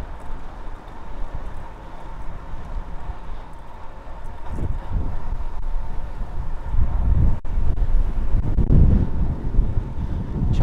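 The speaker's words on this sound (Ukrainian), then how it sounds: "Ох, і вітер." Wind buffets a microphone while riding a fixed-gear bike around Kyiv, a steady rushing roar with stronger gusts swelling and thumping midway and toward the end, no talk.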